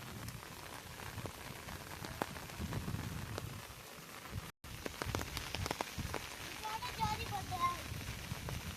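Steady rain falls on a surface in a flooded village during a flood, a dense, even patter with scattered sharper drops, and a voice talks quietly over it.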